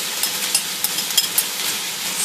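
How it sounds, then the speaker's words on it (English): Sausage, mushrooms and garlic sizzle loudly in a frying pan while being stirred, a close, steady fry with occasional scraping clinks. "Stir that through"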